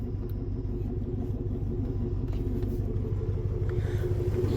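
A car engine runs after a check engine light repair, a steady low rumble with a smooth, unchanging hum, heard alone and fairly quiet throughout.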